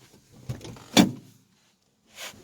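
A door being opened, heard as a few close clunks and scrapes, with one sharp knock in the middle and a softer rustle after a brief silence.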